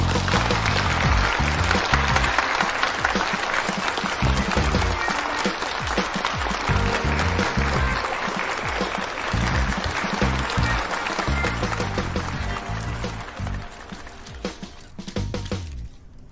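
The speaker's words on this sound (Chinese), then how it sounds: "大家掌声欢迎。" An audience at a mobile phone product launch event claps steadily for about sixteen seconds, a dense, loud round of applause that slowly thins and fades toward the end.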